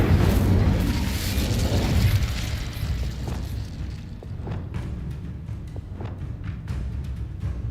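Incendio fire spell in Hogwarts Legacy bursts with a loud, deep booming blast that rumbles and fades over a few seconds, followed by quieter scattered crackles and small pops.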